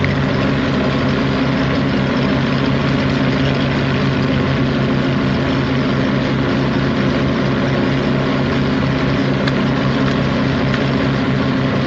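A boat's starboard engine runs in a steady, loud, heavy low drone with a throbbing idle-like pulse, unbroken and close throughout.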